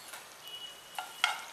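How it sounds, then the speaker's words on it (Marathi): Chopped ginger and garlic drop into hot oil, giving a faint, airy sizzle with a few sharper crackling bursts toward the end. "तर आपलं आलं लसूण तेल आपलं तापलेलं आहे. आलं लसूण टाकूया."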